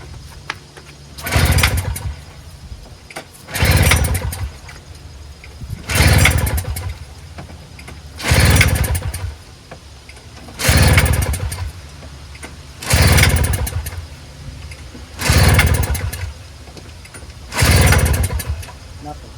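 A Toro CCR2000 single-stage snowblower is pull-started over and over without catching: eight evenly spaced, loud rasping recoil pulls about two seconds apart, with quiet gaps between them.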